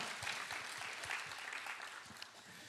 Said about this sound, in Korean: 우리 3대 교구의 역사신 하나님께 영광의 박수 드리겠습니다.